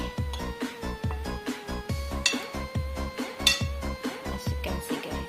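Macaroni salad being mixed in a bowl, with a utensil scraping and clinking against the dish in a steady repeated rhythm of close, clear strokes.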